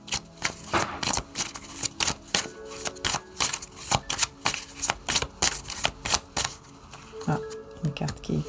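A deck of cards is shuffled over and over, a run of quick papery riffling bursts repeating at an even pace, fairly close and soft, with no voice over them.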